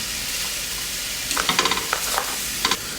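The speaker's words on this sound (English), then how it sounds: "continue stir frying over low to medium heat until the onion starts to turn soft" Sliced garlic and minced ginger sizzle in a hot pan over low to medium heat with a soft steady frying hiss, broken by a few quick scraping stirs, close up and quiet.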